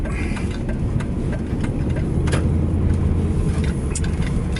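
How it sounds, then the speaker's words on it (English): A car engine idles with a low, steady rumble as the car pulls into a parking spot, loud and close with faint rattles over the drone. "So I shall park my vehicle"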